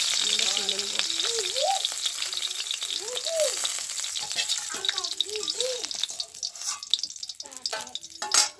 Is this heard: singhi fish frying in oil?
yes